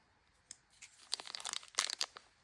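Foil card booster pack being torn open, a short rip followed by a burst of crinkly foil tearing and crumpling close up, quiet and alone with no talk.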